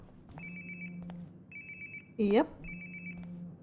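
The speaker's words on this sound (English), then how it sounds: "Sounds like my phone is definitely nearby." A mobile phone rings in the video game Life Is Strange: Before The Storm, giving three repeated ringtone bursts at a steady rhythm, and a short spoken word cuts in between two of the rings.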